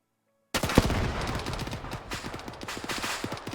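Rapid bursts of automatic gunfire crackle through a firefight in the military shooter Arma 3, starting abruptly after a short silence and continuing densely with overlapping shots throughout.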